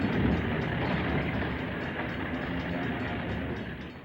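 A westbound interurban electric train slows past the Walnut Creek station, a steady broadband rumble of wheels and cars rolling close by at constant loudness, with no voices.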